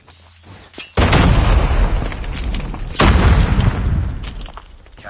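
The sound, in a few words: grenade explosion in the Call of Duty Mobile video game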